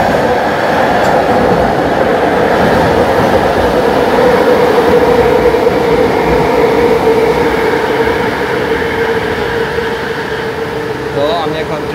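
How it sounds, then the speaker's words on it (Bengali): An LRT train pulls into a station in Kuala Lumpur with a steady, loud rumble and hum of the railcars, sustained throughout alongside platform noise and faint voices. "কথা বলতে বলতে ট্রেনটি চলে আসলো।"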